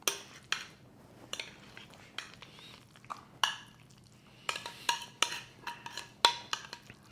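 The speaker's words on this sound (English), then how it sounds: "I'm now going to put this into our bowl that we're going to serve it in" Guacamole is scooped from a mixing bowl into a serving bowl. A spoon scrapes and taps against the dishware in a quick, irregular series of clinks and soft wet scrapes, close up with no talking.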